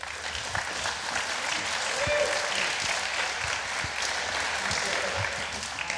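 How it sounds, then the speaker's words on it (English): An audience claps steadily in sustained applause for two speakers at a talk, dense and even throughout, with no voices standing out. "Give them a round of applause."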